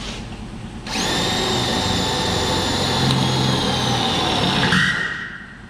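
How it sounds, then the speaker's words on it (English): A power drill bores out spot welds on a GM truck bedside, starting abruptly with a loud, steady high whine that holds for about four seconds before spinning down. "so I'm going to get started drilling some spot welds"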